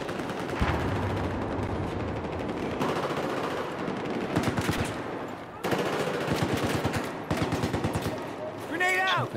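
MP7 submachine gun fired in Battlefield 4, with rapid automatic bursts in several long strings separated by short pauses, loud and close, with a voice speaking briefly at the end.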